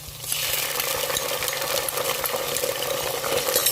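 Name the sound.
ginger garlic paste frying with browned onions in a pan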